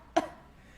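A single short, sharp cough from a reader imitating a sick llama mama's hack during a storybook reading, then quiet.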